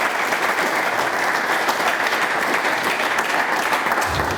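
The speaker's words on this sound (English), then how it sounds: "Let's give TV 35 a round of applause for hosting this." A banquet audience at an all-star football awards dinner gives steady, dense applause, many hands clapping evenly at close range throughout and trailing off at the very end.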